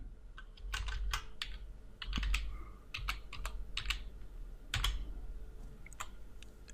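Fingers type on a computer keyboard in quick, uneven bursts of crisp clicks at close range, with short pauses between groups of keystrokes.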